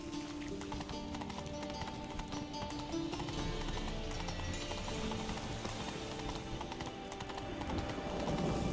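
Roach, the horse in The Witcher 3, gallops with steady rhythmic hoofbeats over a dense, continuous bed of game music and ambience, the clip-clop running throughout the clip at moderate loudness.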